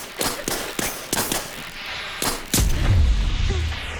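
Gas damage impacts in the video game THE FINALS land as a series of sharp, punchy transient hits in quick irregular succession, loud and close, ending in a heavier booming rumble.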